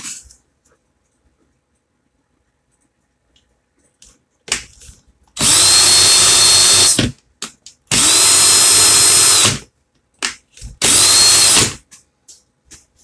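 A power drill whirs loudly in three bursts of a couple seconds each, spinning to straighten resistance wire, separated by short pauses with small clicks and handling noises.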